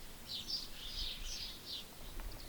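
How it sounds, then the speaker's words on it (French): Small birds chirp and trill high and faint in the distance in early spring, a light scattered song over a quiet outdoor background. "Le début du printemps, les petits oiseaux qui chantent"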